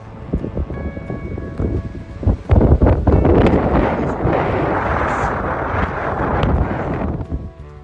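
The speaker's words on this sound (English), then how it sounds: "Let's get out of the wind." Wind blowing across a microphone on the seafront at Hastings on a sunny day, a loud, steady broadband rush with gusty swells throughout and no talking.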